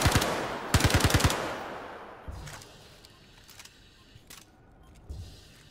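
Gunshots in the space game Star Citizen, two sharp rapid-fire bursts up front followed by scattered distant shots and thuds, fading and intermittent.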